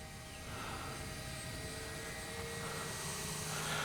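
Kavan Bristell B-23 RC airplane flying a roll at about half throttle, its motor a steady droning hum with a faint tonal whine, holding an even level throughout.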